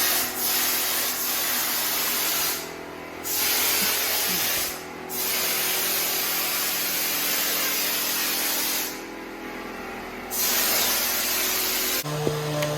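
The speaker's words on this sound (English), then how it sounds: "You can use a power sander like the one being used here. It is a hyper tough cordless sander." A Hyper Tough cordless power sander works across a textured house wall, a steady close broadband whirring rasp that holds for long stretches and drops off briefly a few times before starting up again.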